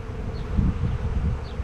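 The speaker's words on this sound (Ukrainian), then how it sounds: "зараз дуже багато бджоли" Buckfast honey bees swarm around an open hive, a dense, steady buzzing drone of many wings close by, with no voices over it.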